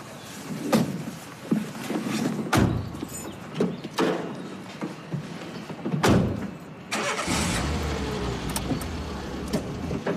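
A car engine cranks and catches, then idles steadily, with door thuds and bumps before it in a street setting, no speech.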